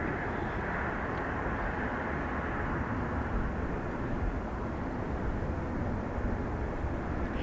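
A Ryanair jet taking off from Dublin Airport bound for Corfu produces a continuous, heavy engine roar that holds steady and loud throughout, with no voices over it.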